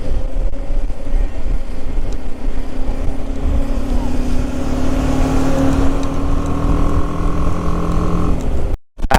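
BMW GS motorcycle riding a highway in heavy rain, a constant broadband roar of wind, spray and engine with a droning engine tone rising and sliding, plus a brief dropout near the end.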